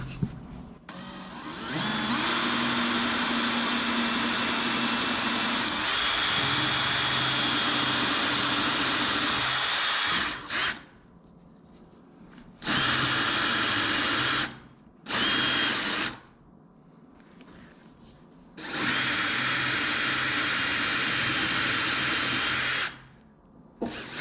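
A power drill bores a sink hole in a butcher block countertop, whining loudly and steadily for about ten seconds, then running in several shorter bursts separated by quiet pauses, close and harsh.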